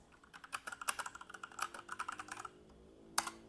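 Fingers type on a computer keyboard in quick irregular bursts of crisp clicks, followed by a pause and a single sharp final keystroke, close and fairly quiet with no talking.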